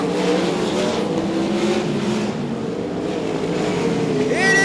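Sprint cars race around Archerfield Speedway in a continuous loud engine drone. The pitch wavers as the cars circle, and a sharp rising rev comes through near the end.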